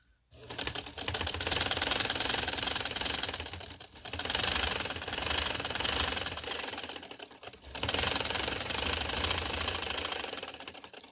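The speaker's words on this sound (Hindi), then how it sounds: "अब मैं सिलाई लगा के दिखाती हूँ आप लोगों को।" A sewing machine stitches folded shalwar fabric in three long runs of rapid mechanical clatter separated by brief pauses, close and steady with no voices.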